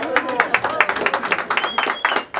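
Applause at a quinceañera celebration with a mariachi band, a burst of rapid hand clapping from a nearby crowd, steady and lively throughout with a voice speaking over it.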